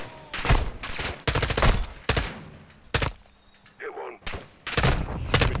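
Bursts of gunfire from a Call of Duty: MWII campaign mission, sharp shots in quick clusters with brief gaps between them, loud and close.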